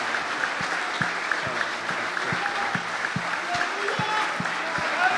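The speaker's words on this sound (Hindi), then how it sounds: "I want you to stand up, clap your hands to Jesus" A standing church congregation claps along in a steady rhythmic beat, many hands together at a moderate distance, with a voice talking over the applause.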